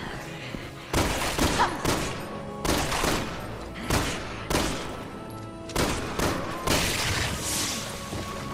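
Bursts of gunfire in Resident Evil 6 on PS5, during Leon's campaign in co-op play, as repeated loud volleys fire at roughly one-second intervals over a continuous game soundscape.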